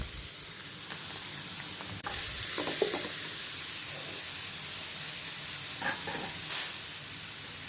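Finely chopped onions fry gently in oil in a pan, a low, even hiss with a few soft stirring bursts and brief spikes of louder sizzle, heard up close with no one speaking.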